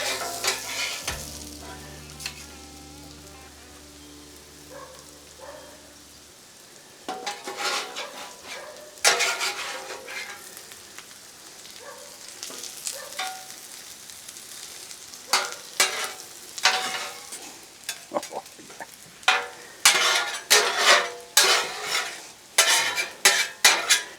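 Hash browns and onions fry on a griddle with a steady hiss, while a spatula repeatedly scrapes and clatters against the metal surface in quick strokes that grow more frequent and louder toward the end.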